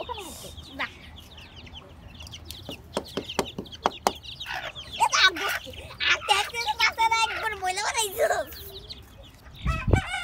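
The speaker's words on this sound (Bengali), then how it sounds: "এই যে রায়ানের সাথে খুবই দুষ্টুমি করতেছে মুরগিগুলা।" Backyard chickens cluck and squawk in scattered bursts outdoors, fairly close and growing busier toward the end, with a voice talking among them.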